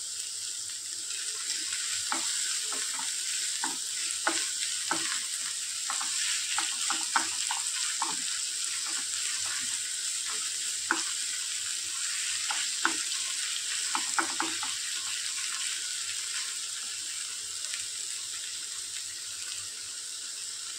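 Chopped tomatoes with salt stir-fried in a pan for a spiny gourd dish, giving a soft, steady sizzle with repeated spoon scrapes and taps against the pan throughout.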